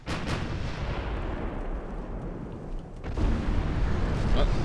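Naval gunfire from battleships in Ultimate Admiral: Dreadnoughts, a dense, loud, sustained rumble of heavy cannon fire and booming impacts, swelling again near the end, with no talking.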